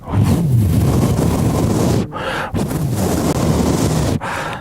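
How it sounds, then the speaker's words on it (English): A loud, close engine roars in heavy bursts, with two brief dips between surges, rough and powerful throughout. "I did turn it on and rev the engine."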